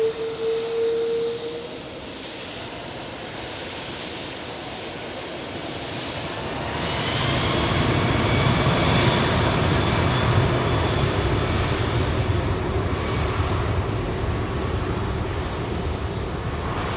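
A Singapore Airlines A380 jet climbs after takeoff. A deep, loud engine roar builds after a quieter start, then holds as a sustained rumble with rushing higher tones.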